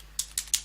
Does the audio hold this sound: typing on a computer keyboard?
yes